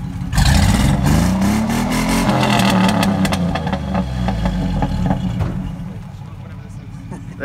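A car engine revs hard with the microphone right up next to the exhaust, a loud roaring rise in pitch that holds, then settles back toward a rumbling idle.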